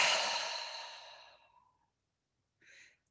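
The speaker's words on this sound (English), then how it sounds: "breathe in and exhale" A long, audible exhale during a breathing exercise of breathing in and exhaling, fading out over about a second and a half, then a short, soft breath after a pause, close and alone.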